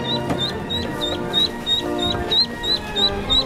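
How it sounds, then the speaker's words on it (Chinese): Ducks on a home balcony quack loudly and nonstop, a steady rhythm of repeated nasal calls about three per second, close and clear with no talking. "这个鸭子叫声 超级吵，而且就一直叫，它不停的"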